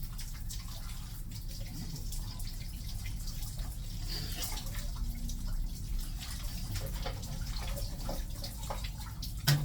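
Water streams steadily from a low-budget shower improvised from a container punched with holes, fed by a village tube well, making a continuous close splashing wash with faint drips.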